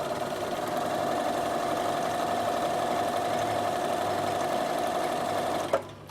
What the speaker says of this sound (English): So I'll just do a row of straight sewing first to show you.